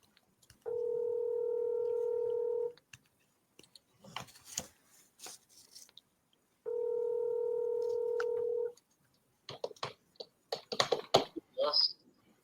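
Two long steady electronic tones of a voicemail system, each lasting about two seconds and separated by a gap, with faint clicks and rustling between them and after.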